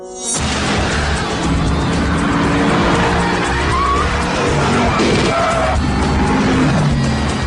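A Lexus IS F with a 5-litre V8 roars hard under power, with tyres squealing as it is driven hard. The engine noise stays loud, dense and continuous, close by, with no talk.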